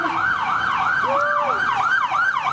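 An ambulance siren wails loud and close in a steady rising-and-falling cycle, repeating several times over continuous road traffic noise.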